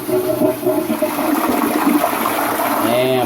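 A Glacier Bay dual flush toilet flushes with a loud rushing surge of water that carries on steadily for a few seconds, close by and without any voices.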